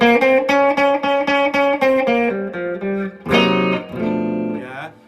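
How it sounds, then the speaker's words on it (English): Electric blues guitar playing a minor pentatonic scale with the added blue note, a run of single picked notes that descends and then slides into a bent, sustained phrase, loud and close with no talking. "So that's the sound of the minor pentatonic scale with the blue note,"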